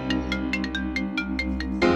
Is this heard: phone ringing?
yes